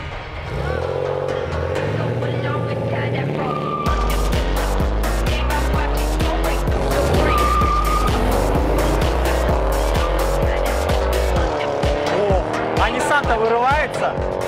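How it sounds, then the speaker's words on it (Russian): Street drag race start, a BMW 221-series car against a Nissan Skyline launching hard, loud roaring engines and sharp tire squeal, revving up through gears with voices talking over the noise throughout. "Сейчас заезд 221 против Nissan Skyline"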